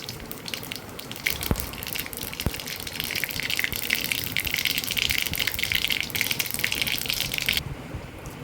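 Mustard seeds spluttering and popping in hot groundnut oil for a raw mango pachadi, a steady loud crackling sizzle that fills the whole stretch, close up and alone before cutting off abruptly near the end.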